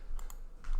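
Arrow keys on a computer keyboard being tapped, a few quick, light clicks close by, the last two pressed in rapid succession.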